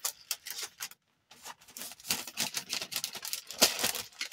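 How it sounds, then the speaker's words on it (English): Packaging crinkles in rapid, irregular bursts close by, pausing for a moment and then resuming with sharp crackly rustles. "Sorry for this crinkling."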